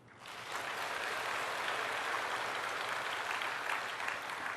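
A church congregation at a Sunday sermon bursts into applause in thanks to God, a dense, sustained wash of many hands clapping that starts abruptly and holds steady throughout, with no speech over it.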